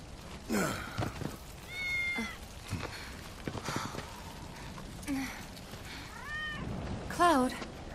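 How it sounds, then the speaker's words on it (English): A cat meows several times in the Final Fantasy VII video game, short rising and falling cries mixed with game sound effects and ambient noise. "Good kitty."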